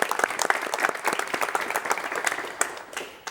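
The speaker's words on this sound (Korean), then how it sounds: "박수로 맞이해 주십시오" Studio audience on a 1986 Korean television talk show claps to welcome the director of the National Dance Company, a crisp, moderately loud burst of individual claps that stays steady for about three seconds before tapering off.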